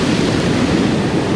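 Ocean waves wash onto a beach at outgoing tide, a steady, continuous surf rumble with no distinct breaks, close and fairly loud.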